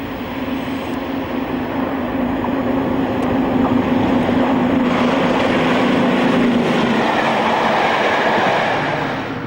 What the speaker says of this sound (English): Elisterdon at Rossington with the midday service to Hull in August 1980